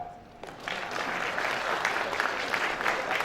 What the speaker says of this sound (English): Are you supposed to clap?